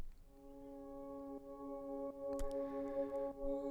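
Omnisphere synth pad using the Sacred Shrine preset with EQ and saturation, a soft sustained chord of steady harmonic tones, quiet and even, with a brief breathy swell and faint tick partway through.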